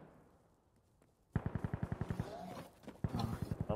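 Rapid enemy automatic gunfire in Insurgency Sandstorm, a fast rhythmic string of sharp shots that starts abruptly, pauses briefly and resumes, fairly close and loud over a quiet backdrop.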